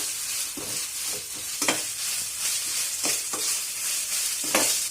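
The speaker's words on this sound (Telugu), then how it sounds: "ఇప్పుడు ఉల్లిపాయలు వేగాక ఇందులోకి జింజర్ గార్లిక్ పేస్ట్ని యాడ్ చేసి మిక్స్ చేద్దాం." Onions with ginger garlic paste frying and being stirred for pudina rice, a steady broad sizzle with several louder scraping stir strokes, close and alone without voices.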